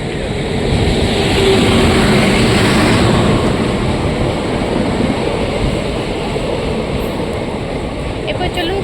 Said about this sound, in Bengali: এই যে ট্রেন প্রায় ঢুকে গেছে।